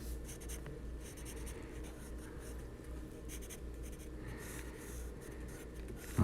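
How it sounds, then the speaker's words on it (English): Pencil drawing on paper, a steady continuous scratching and rubbing of graphite strokes, close and fairly even throughout without talk. "I'm going to draw my tubes here. I'm going to darken this so you can see what I'm doing here."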